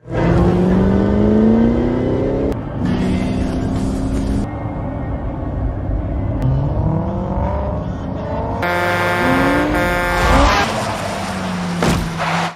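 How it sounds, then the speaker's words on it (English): A car engine drones and revs with rising and falling pitch over a steady low rumble, then cuts to a louder, brighter roar as the car nearly crashes into a truck in a film scene. "James nearly crashes into a truck while driving his car"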